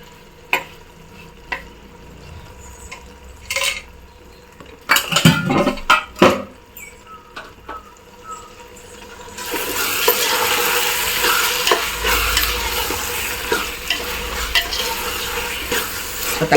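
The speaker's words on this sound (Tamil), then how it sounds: "தக்காளி கட் பண்ணியாச்சு இப்போ போட்டுக்கலாம்" Chopped tomatoes hit a hot pan of chicken biryani base after a few clinks of utensils, followed by loud, steady sizzling and frying as the mixture is stirred.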